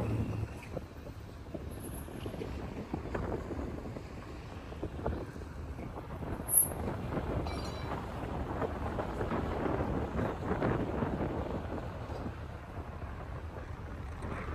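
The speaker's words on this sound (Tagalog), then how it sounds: "Sumisipul yung hangin dito eh." Strong wind roars and gusts steadily throughout, a constant rushing buffet with a brief high whistle partway through, no voices.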